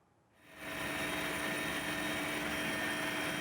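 A Caracal military helicopter hovers during a search-and-rescue evacuation of a pilot, its rotor and engine noise rising in over half a second into a steady, even roar with no voices.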